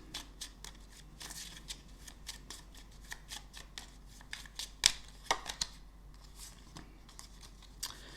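Tarot-style oracle cards shuffled and drawn by hand, a quiet run of soft papery riffles and flicks with a few sharper card snaps in the middle, close and alone with no talking.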